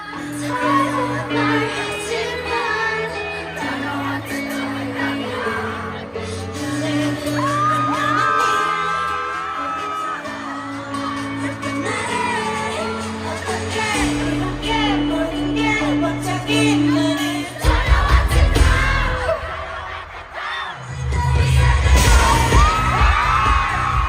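A huge concert crowd at a show in Abu Dhabi screams and cheers over loud music, shrill whoops rising throughout and heavy bass hits punching in near the end.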